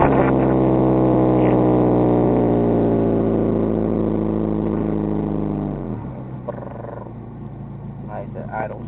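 A 2004 Mitsubishi Ralliart, fresh from a turbo install, idles with a loud, steady, close engine drone that drops to a lower, quieter rumble about two-thirds of the way through.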